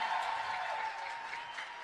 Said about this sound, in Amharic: እልልታ